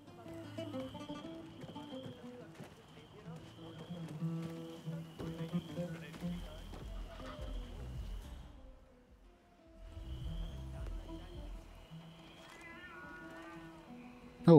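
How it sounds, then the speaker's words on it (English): A cat meows now and then inside the game Hitman 3, mixed in with in-game music and ambient sound, with a quieter stretch near the middle. "Oh, is that a cat? I heard a cat somewhere."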